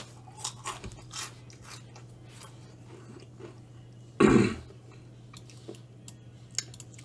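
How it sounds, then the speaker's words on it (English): Loud, close-up chewing bursts out once, a short crunchy mouthful against a quiet room with a steady low hum and faint scattered clicks. "Why do you chew so loud?"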